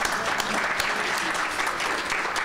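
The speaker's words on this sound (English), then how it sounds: "Let's give them a round of applause." A room full of attendees at a Springfield citizens club meeting about the local school district breaks into brief, steady applause, loud and close, with a faint murmur of voices underneath.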